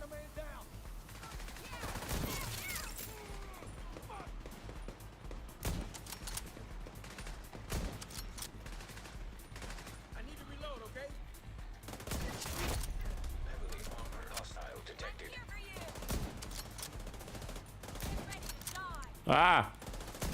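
An automated turret in The Division 2 fires bursts of gunfire among scattered shots and game effects, with a voice talking over parts of it.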